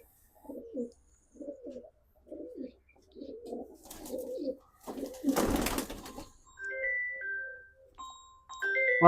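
Pigeons, including a large prize-winning racing pigeon kept by a Punjabi fancier, coo in a steady series of soft, low repeated calls, followed by a burst of rustling and a few brighter tones.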